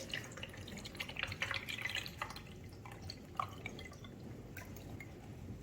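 Homemade liquid banana-peel fertilizer drips through a filter at a women's day gardening demo, a faint, steady patter of small drops with a slightly busier splashing stretch early on.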